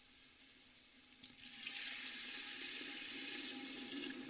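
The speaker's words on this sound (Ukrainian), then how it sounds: "Зараз ми зальємо це все водою, так, щоб воно його трішечки вкрило." Water begins to pour at about a second and a half, a steady close splashing stream filling an Afghan kazan cauldron while cooking plov, quiet and without talk.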